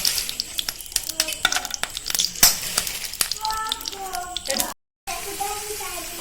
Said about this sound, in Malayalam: ഇനി കാഷ്യൂ, കിസ്മിസ് നമുക്ക് വറുത്തെടുക്കാം.